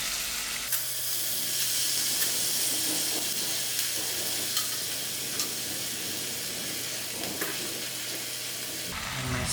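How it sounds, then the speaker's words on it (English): Sour herbs (kanji keerai) sizzle steadily as they fry in a pan and are stirred, a continuous close hiss with occasional soft scrapes throughout. "Now I'm going to put in my sour herbs."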